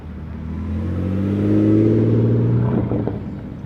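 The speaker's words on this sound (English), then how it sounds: "A Dodge Challenger with a loud exhaust." A Dodge Challenger engine rumbles and revs up loudly, its deep, loud exhaust note rising and swelling as it passes nearby at the Gold Rush Rally GRX 2018 in Scottsdale, with no talking.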